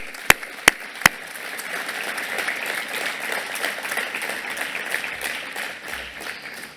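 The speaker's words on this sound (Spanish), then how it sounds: "os pido además que lo hagamos con un aplauso" Audience applause at a tenth-anniversary ceremony marking the integration of Spain's agricultural social security scheme into the general system, steady dense clapping filling the hall after a few sharp isolated claps, continuing without letup and with no talking.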